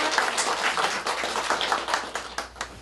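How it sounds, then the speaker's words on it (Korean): An audience at the Gangseo News legislative awards ceremony gives a round of applause, dense clapping close by that builds, then thins into a few scattered claps toward the end. "자, 뜨거운 박수 부탁드립니다"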